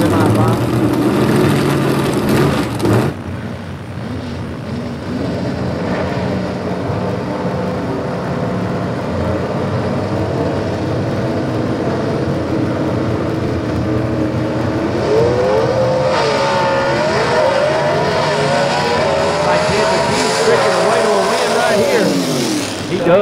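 Gasser drag race cars at full power at the Southeast Gassers event in London, Kentucky, loud sustained engine roar with rising revs, a commentator talking over the racket throughout.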